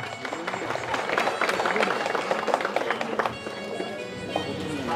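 Audience applause at a goat farm event in Bhopal, a crowd clapping steadily through the whole stretch, close and fairly loud, with voices mixed in under it.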